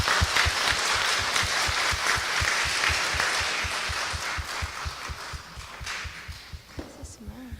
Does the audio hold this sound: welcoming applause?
yes